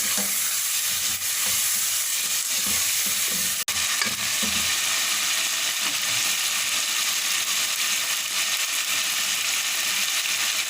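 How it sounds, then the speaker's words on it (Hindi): Chicken sizzles and crackles steadily in hot oil, a dense continuous frying hiss with occasional stirring scrapes, close by. "बस अब इसको अच्छी तरह से तेल में फ्राई कर लेना है, ये गोल्डन हो जाए।"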